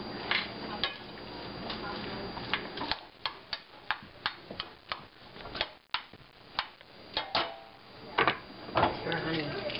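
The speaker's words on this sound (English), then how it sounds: "so stir it for a little while" A spoon stirring Cuban picadillo in a pan, with irregular clinks and scrapes against the metal, close and moderately loud, over kitchen background noise.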